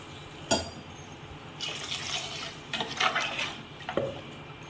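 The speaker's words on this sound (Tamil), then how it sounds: "குழம்புக்கு தேவையான அளவு தண்ணி ஊற்றிக்குங்க." Water being poured into a pan of mutton curry with ground masala, a sharp clank followed by a bubbling, splashing pour that swells and fades over a few seconds, close with no talk.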